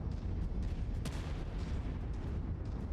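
In MechWarrior 5: Mercenaries, artillery cannons fire repeatedly in battle, giving dull booms and a sharp blast over a dense, continuous rumble of combat noise, with no talking.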